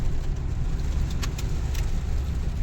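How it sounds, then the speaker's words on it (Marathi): A car driving slowly along a road in Satara during rain, heard from inside the cabin as a steady low road and engine rumble with a few light rattles, no voices. "आम्ही एकदम स्लो गाडी चालवतोय आमची"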